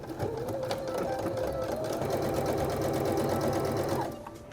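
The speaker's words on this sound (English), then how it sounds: "So I'm just gonna do a straight stitch." A sewing machine runs a continuous straight stitch joining fabric panels for a thrifted Japanese noren curtain, a steady close mechanical whir at even pace for about four seconds before slowing at the end.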